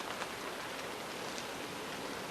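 Rain falling at night, a dense, steady hiss of drops pattering on surfaces nearby, with no voices.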